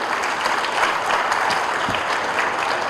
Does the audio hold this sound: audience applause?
yes